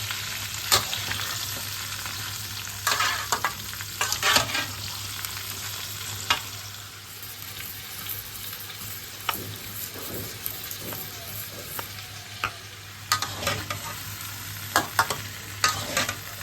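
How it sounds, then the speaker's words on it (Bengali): Vegetables with turmeric fry in a pan for a Bengali potato, pointed gourd and pumpkin dalna, a steady close sizzle broken by repeated scraping and clatter of stirring, with no talk. "সবজিগুলোকে এবার আমরা একটু ভেজে নেব"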